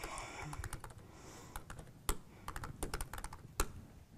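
Typing on a computer keyboard at a desk: quick, close, crisp key clicks arrive in uneven bursts and short pauses, fairly soft overall with a few sharper taps standing out.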